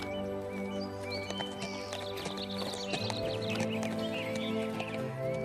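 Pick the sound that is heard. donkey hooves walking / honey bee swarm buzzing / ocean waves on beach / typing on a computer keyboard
donkey hooves walking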